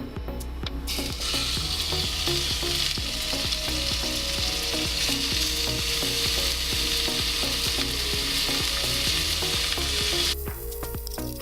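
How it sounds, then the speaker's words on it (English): Ground beef sizzles and crackles steadily in an oiled pan, a loud dense hiss lasting about ten seconds with occasional stirring scrapes, no talking. "Add the beef in the pan and then wait for it to brown"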